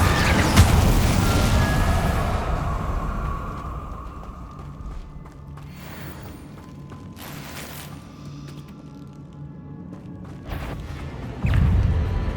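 Incendio fire spell cast repeatedly in Hogwarts Legacy, a loud whooshing burst at the start followed by softer crackling, mechanical clicks and a few sharp flares later, with a heavy impact near the end.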